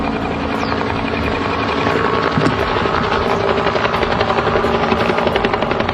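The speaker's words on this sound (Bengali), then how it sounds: "এবারে হেলিকপ্টারটি দেখুন" A homemade helicopter's engine and rotor produce a loud, continuous whirring drone close by, with a steady rapid chopping pulse and no pauses.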